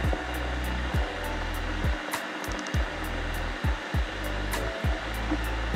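Electric keggle running as it heats brewing water, a loud steady roaring hum broken by repeated low whooshing surges and a few faint clicks, with no voices.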